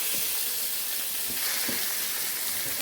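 Chopped potatoes tipped into a hot pan while making a paratha filling, giving a dense, continuous close sizzle and hiss with faint stirring knocks underneath.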